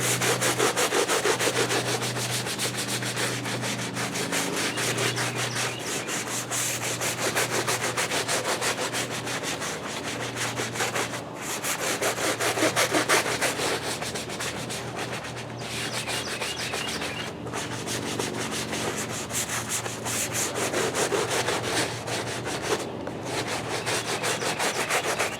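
A stiff brush scrubs a sudsy car floor mat from a GMC with repeated rhythmic back-and-forth rasping strokes, close and continuous, with a few brief pauses and no talking.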